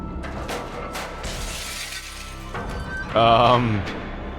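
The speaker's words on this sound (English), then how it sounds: "Was that a glass ball that was sent through it all and then it shattered when it hit this plate" In the game Myst III: Exile, a glass ball rolls through a mechanism, then shatters against a metal plate with a bright, ringing crash near the end, after softer mechanical clunks and rattles.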